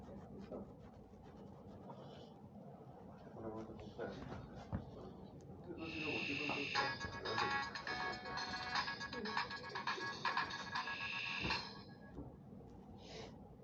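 A Samsung mobile phone powers on and plays its startup jingle, a bright, melodic run of tones lasting about six seconds over steady background noise.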